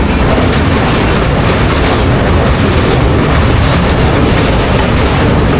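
Loud, dense rumble of a train crossing a bridge over the Mahanadi river, a continuous roar with faint rhythmic clatter, heard close up from on board.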